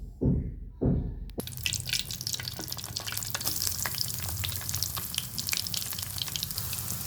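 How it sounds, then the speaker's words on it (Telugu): Potato fries dropped into boiling oil set off a loud, dense crackling sizzle with rapid popping bubbles, after a couple of soft bumps at the start, continuing steadily up close with no talk. "ఇది ఆయిల్, మరుగుతున్న ఆయిల్లో ఫ్రై చేసుకోవడమే"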